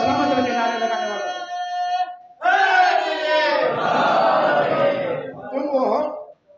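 At a Muharram majlis in an imambargah, a crowd shouts religious slogans in loud, drawn-out bursts of massed voices, with a single voice leading before the crowd answers.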